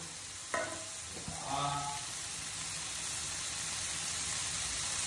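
Green hariyali chicken pieces fry in a pan with a little butter, giving a steady, close broadband sizzle throughout, with a couple of brief stirring knocks near the start.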